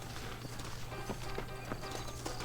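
Saddled horses trot in the video game Red Dead Redemption, with steady rhythmic clip-clop hoofbeats at moderate distance over a low background hum.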